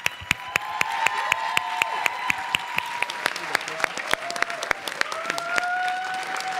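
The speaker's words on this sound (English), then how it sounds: "Let's give them a big round of applause." Audience applause following a school presentation at a Chicago-area academy, a steady wash of many hands clapping for several seconds, with sharp individual claps standing out and voices talking through it.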